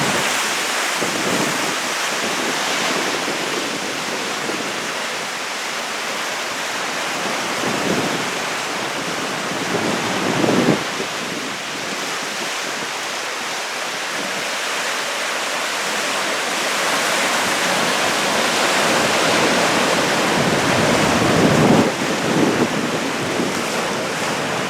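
A creek spills down a coastal headwall on the Oregon shore, a loud, steady roar of rushing water mixed with surf and gusty wind buffeting the microphone, no voices.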